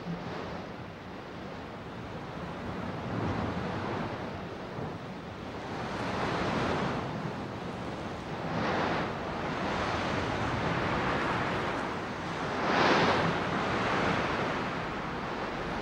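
Wind blowing steadily across the open Andes, a broad continuous roar that swells and gusts in waves, loud and close with no voices.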